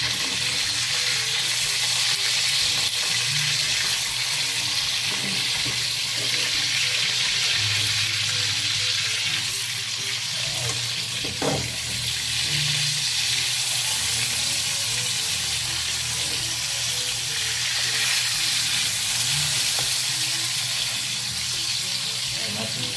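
Tambakol fish fries in a pan with a steady, close sizzle and occasional stirring or clinking, continuing throughout with no pause.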